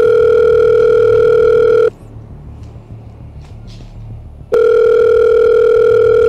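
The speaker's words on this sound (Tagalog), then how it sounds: "tatawagan ko na lang ulit yung anak ko" A telephone dial tone sounds steady and loud as a call is placed, cuts off for about two and a half seconds of near quiet, then returns just as strong; no one speaks.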